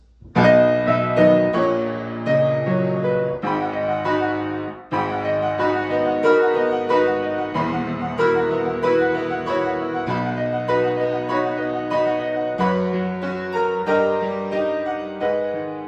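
A piano plays a flowing passage at mezzo piano, with a melody in the lower register under steady chords, kept moderate and restrained in volume throughout, with no voices.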